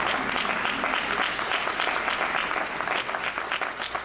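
Steady, dense applause from a town hall meeting audience welcoming city staff, a full round of clapping that stays loud and even throughout with no break.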